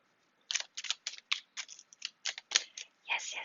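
Tarot cards being shuffled by hand: a long run of quick, crisp flicks and snaps, close and fairly soft, repeating in an uneven rhythm with no voice.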